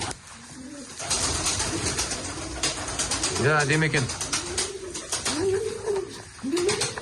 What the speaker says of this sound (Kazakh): Бұл жерде негізі бәрі жас құстар, аналықтар бөлек жерде тұрады негізі.